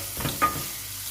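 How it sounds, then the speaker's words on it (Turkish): Pepper paste sizzling and frying in hot oil for tarhana soup, with a couple of soft stirring scrapes near the start. "Daha sonra yağda kavuruyorum."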